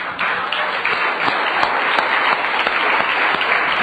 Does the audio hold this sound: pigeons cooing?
no